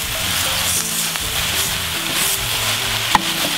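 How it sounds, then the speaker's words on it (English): A pot of green bean and tomato stew bubbles and sizzles steadily while being stirred, with a faint clink of the spoon near the end and no talking. "And just give it a good stir."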